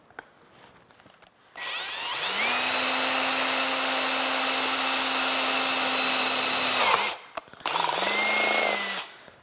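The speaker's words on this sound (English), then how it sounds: "we're going to drill our hole right through our marking." A power drill bores a hole through a marked tab on a 2018-2020 Ford F150 lower bumper bracket, whining loud and close for about five seconds, pausing briefly, then running again for a shorter burst.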